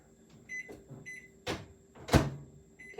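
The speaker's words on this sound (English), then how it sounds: "we're going to pop these back in the microwave because we're gonna need both colors" A microwave oven runs while melting chocolate, a low steady hum broken by a few clunks and thuds, recorded close in a quiet kitchen.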